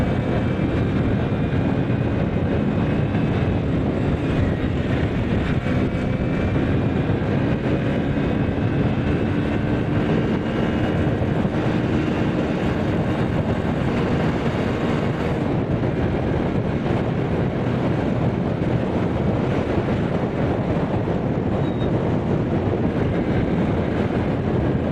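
A 2023 Hero HF Deluxe motorcycle accelerates in third gear toward top speed, a steady, loud engine drone heavily mixed with rushing wind noise, holding constant for the full stretch without talk.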